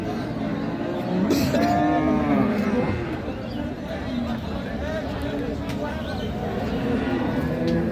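A Holstein Friesian cow at a livestock market moos in long, low calls, heard among crowd chatter and people talking nearby.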